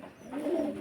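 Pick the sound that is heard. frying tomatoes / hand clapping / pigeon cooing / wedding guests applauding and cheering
pigeon cooing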